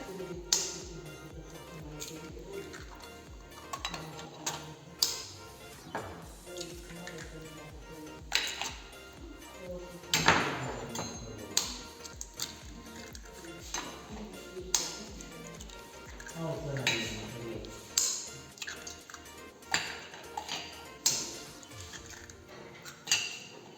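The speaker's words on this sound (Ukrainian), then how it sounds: "Далі в миску вбиваємо по нормі яйця" Eggs cracked into a lemon-wiped bowl for a sponge cake batter, heard as a series of sharp taps and clinks spread across the stretch, with someone talking and kitchen clatter around them.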